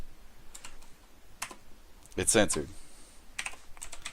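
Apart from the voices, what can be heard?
typing on computer keyboard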